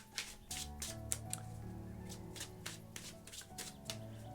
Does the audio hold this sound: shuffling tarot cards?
yes